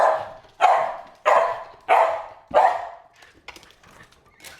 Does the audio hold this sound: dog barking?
yes